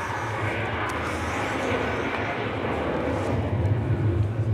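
Airplane sound effect played during a school skit about an airline flight, a steady broadband engine roar holding at even loudness throughout with faint voices underneath.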